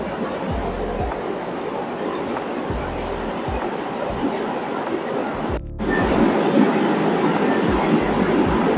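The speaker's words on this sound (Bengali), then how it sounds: "বরুণ সেনগুপ্ত স্টেশনে এসে পৌঁছলো আমাদের মেট্রো।" A metro train pulls into Barun Sengupta station, a loud continuous rumble of wheels and motors with rhythmic low thuds, a short dip, then a steadier roar as it comes in, with someone talking over it.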